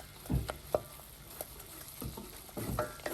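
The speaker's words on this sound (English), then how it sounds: "We're going to stir this around." A spoon scrapes and stirs flour into melted butter in a pan, giving soft rhythmic scraping strokes with a light sizzle underneath. Nobody speaks.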